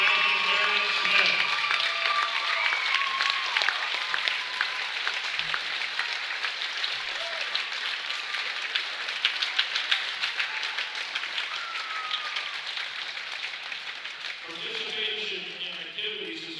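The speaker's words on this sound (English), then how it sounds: "Let's give another round of applause for all these students and their parents." Sustained audience applause fills a school gym at a boys' high school basketball game between Illini Central and Greenview, steady dense clapping with crowd noise throughout, easing and thinning near the end.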